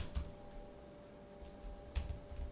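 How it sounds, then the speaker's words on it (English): Code is typed on a computer keyboard, heard as a few faint, scattered key clicks close by over a quiet background hum. "I just type console.log and type what's name"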